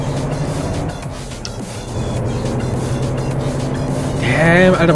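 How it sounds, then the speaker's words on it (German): A loud, droning truck engine in American Truck Simulator rumbles steadily, rising in pitch and intensity near the end as it revs up. "Alter, warum ist der LKW so laut?"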